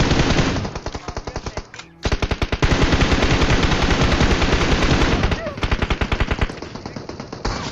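Rapid machine gun bursts from a battle royale video game, loud and close, firing in long rhythmic volleys with a brief pause near the two-second mark, then continuing in dense repeated strings of shots.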